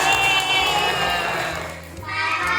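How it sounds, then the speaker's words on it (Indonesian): Children in a classroom clap and cheer for a classmate, a dense, steady burst of applause mixed with young voices, fading briefly near the end before swelling again. "Oke, tepuk tangan buat Abizar."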